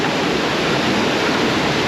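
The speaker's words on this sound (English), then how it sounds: "Really nice waterfall." St. Mary Falls in Glacier National Park pours turquoise water in a full, rolling flow. It makes a loud, steady, broadband roar with no breaks and no voices.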